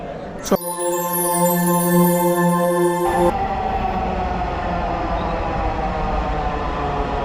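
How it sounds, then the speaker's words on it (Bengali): A Dhaka metro rail train at Uttara North station gives a steady electric whine that cuts off after a few seconds, followed by a continuous, even rumble of the carriage. "আমরা উত্তর থেকে মেট্রো রেলে উঠতেছি"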